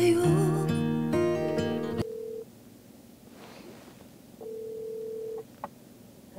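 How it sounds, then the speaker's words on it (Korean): Telephone beep tones from a phone handset: a run of rapid dialing-style tones and melodic beeps, then a long steady beep followed by a second sustained beep after a pause, fairly quiet and heard without talk. "삐 소리."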